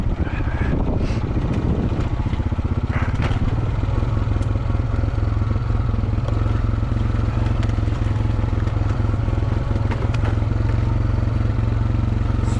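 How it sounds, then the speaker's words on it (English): A Honda dirt bike's engine braking while the rider descends an off-camber downhill section into tight trees on a mountain-top track, with a loud, continuous low engine drone close to the mic and some clatter over the top. "Nice about the Honda engine braking, since I have no back brakes."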